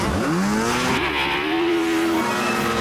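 A Sandex sand buggy with an 800cc two-stroke engine races across desert sand, its engine note climbing in pitch, dipping at a gear change, then rising again in a loud, nearby high-revving whine.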